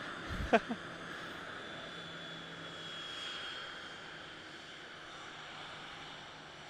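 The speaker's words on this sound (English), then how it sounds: "There we are, Virgin Australia 737 in from Melbourne." Distant rumble and whine of a Virgin Australia Boeing 737 airliner arriving at Adelaide Airport, a faint steady engine roar after a brief clunk near the start.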